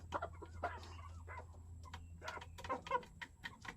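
Chickens cluck in short, scattered bursts over a steady low hum, several birds crowded together close by, with the calls coming irregularly and overlapping at moments.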